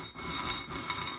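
Small charms clink and jingle together as they are mixed for a reading, in a few faint bursts of light metallic rattling close by.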